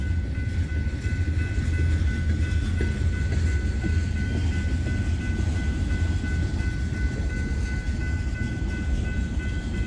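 A train rumbles steadily nearby with a continuous low roar and a faint high tone, no voices.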